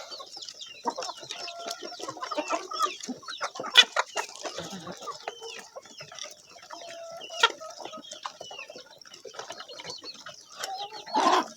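Laying hens in a coop cluck and murmur in short, irregular bursts, with a few sharper squawks standing out, moderately close and without any talk.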